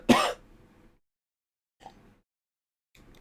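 A man clears his throat once, close and sharp, then two faint, brief throat sounds follow amid near silence.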